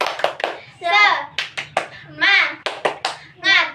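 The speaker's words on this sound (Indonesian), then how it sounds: "kita tepuk semangat dulu yuk. Tepuk semangat" A class of students performs the 'tepuk semangat' clapping chant during a teaching session, with sharp rhythmic hand claps alternating with loud chanted group voices, close and lively.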